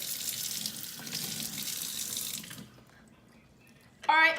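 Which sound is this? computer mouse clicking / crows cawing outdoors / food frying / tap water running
tap water running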